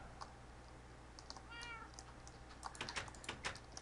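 A Minecraft cat lets out one short, soft meow over a steady low hum, followed by a flurry of quick keyboard clicks.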